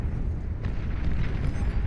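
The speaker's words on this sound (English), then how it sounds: "the Cerberus cannon, firing away as many times as it can" Rumbling, booming cannon fire from the Cerberus cannon in the strategy game Beyond All Reason, a continuous dense roar of overlapping blasts with a few sharper bursts, loud and steady throughout.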